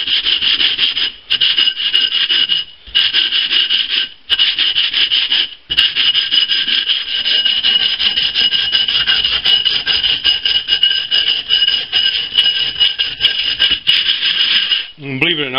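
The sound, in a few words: sanding cut glass bottle edge with 80 grit sandpaper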